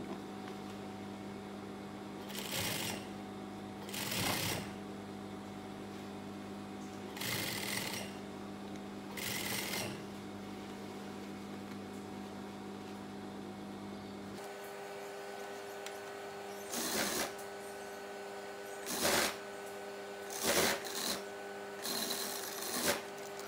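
A sewing machine stitches a sofa cushion cover in several short runs with pauses between them, over a steady low hum in a quiet room.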